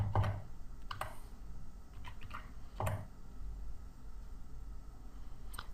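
Typing on a computer keyboard to enter a plugin search, a few quick bursts of key clicks with pauses between, soft and close, no voices.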